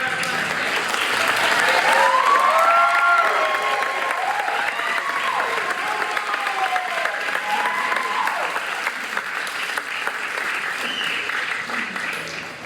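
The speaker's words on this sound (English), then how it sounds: "We have one more round of applause" A school board meeting audience claps for a mariachi band in a long, full round of applause that swells early and slowly eases. Scattered voices and tonal sounds rise over the clapping.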